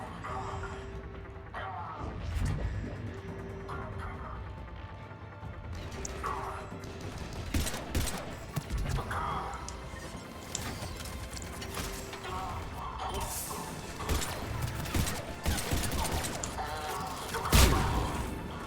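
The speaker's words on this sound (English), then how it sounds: "Listening to some banging metal." Metallic banging and clanking in Mass Effect 3, irregular clanks and knocks over a busy game soundscape with a steady hum, a louder crash near the end.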